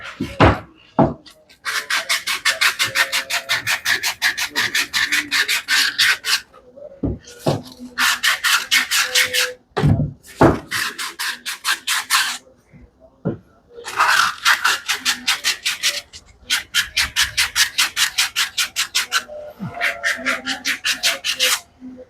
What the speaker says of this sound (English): spots here I've got to try and clean up with my sandpaper real quick before we start routering this